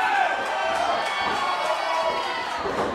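Dense, steady crowd cheering and roaring at a pro wrestling match during a tag team bout, a continuous wall of noise from a packed audience with scattered shouts rising above it.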